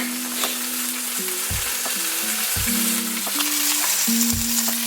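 Burger patties fry in a hot pan with a continuous bright sizzle and crackle, heard alone with no talk, joined by a few short, scraping stirs.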